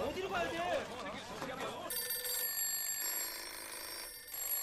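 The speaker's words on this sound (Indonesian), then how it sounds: "Tiba-tiba saja semua telepon kantor berdering." Office telephones ring together in a South Korean newspaper office. A burst of voices gives way to steady, overlapping electronic ringing tones that continue for several seconds.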